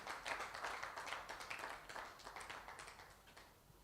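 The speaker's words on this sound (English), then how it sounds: "Please, a round of applause for her." Audience applause at an entrepreneurs' network workshop, a steady wash of clapping from many hands that stays even for a few seconds and then thins slightly toward the end.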